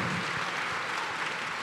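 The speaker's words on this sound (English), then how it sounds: "Let's give them a round of applause for that alone." An audience applauds steadily at a large conference opening plenary, a dense wash of clapping hands that stays even and loud throughout with no voices rising above it.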